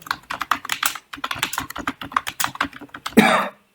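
Fingers tap rapidly on a computer keyboard nearby in uneven bursts of clicks, followed by a brief cough at the end.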